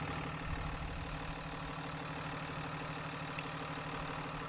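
A big bus engine idles steadily just after a cold start, a dense continuous rumble with a faint knocking undertone holding even and close throughout, with no voices.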